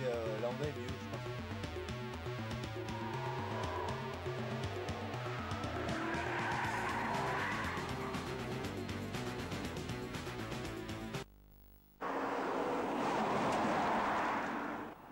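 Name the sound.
BMW M5 car driving with tires skidding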